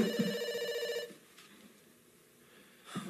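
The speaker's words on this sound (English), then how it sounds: "before she can answer, the phone rings" A telephone rings in a TV horror anthology episode: a loud, buzzing bell ring for about a second, followed by a quiet room with a soft thud and a brief rustle near the end.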